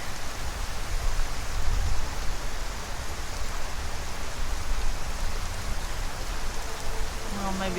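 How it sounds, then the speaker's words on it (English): Steady rain falls in the video game Skyrim, a dense, even hiss of drops filling the whole clip at constant loudness, with no talk over it. "It just had to be raining,"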